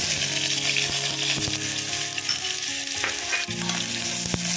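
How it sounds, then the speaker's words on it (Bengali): Chopped onions sizzle steadily in hot mustard oil, a dense continuous frying hiss with occasional sharp clicks and scrapes of stirring, close and fairly loud with no talk. "দুটো পেঁয়াজ কুচি আমি দিয়ে দিলাম। এবার এই পেঁয়াজটাকে আমি একটু ব্রাউন করে ভাজবো।"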